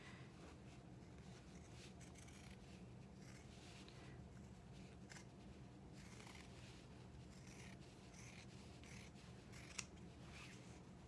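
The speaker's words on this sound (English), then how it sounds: "you're going to want to trim the seam allowance everywhere else" Scissors snip steadily through the fabric seam allowance of a bucket bag, a dense run of close, continuous crisp cuts with no talking.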